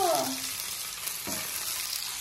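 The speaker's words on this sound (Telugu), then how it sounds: "ఇది కొంచెం రోస్ట్ చేద్దాం, కలర్ చాలా బాగుంటుంది." Fish fries in a pan, giving a close, continuous sizzle and crackle with a few faint stirring scrapes and no talking.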